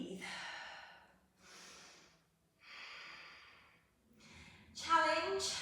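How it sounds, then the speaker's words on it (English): Deep breathing during a yoga workout: three slow, soft breaths close to the mic, evenly spaced with short pauses between them, followed by a louder, brighter exhale or snort near the end. "And breathe."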